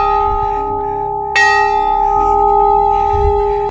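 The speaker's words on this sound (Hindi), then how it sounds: "घंटी है।" A metal bell at Bayana fort in Bharatpur, Rajasthan rings out loud and close, one strong strike partway through layering over a long sustained humming tone that keeps resonating to the end.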